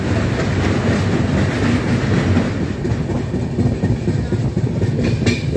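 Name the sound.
train crossing the Teesta river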